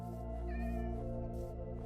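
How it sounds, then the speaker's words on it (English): A cat in Minecraft lets out a single drawn-out meow, clear and close, over a steady background of game music. "That was a cat."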